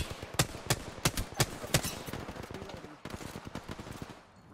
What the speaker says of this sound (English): Let's try to shoot him.